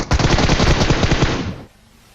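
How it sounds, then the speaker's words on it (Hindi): Rapid automatic gunfire in a shooter video game, a dense loud burst of overlapping shots that cuts off abruptly near the end, leaving quiet background. "चारों तरफ इतनी गन साउंड आ रही थी"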